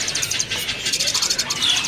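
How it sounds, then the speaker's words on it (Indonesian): A jalak suren bird in a kiosk at the Pramuka bird market calls with a steady series of rhythmic notes that rise above a busy background of market noise. "Oke, di kios ini ada burung jala suren ya."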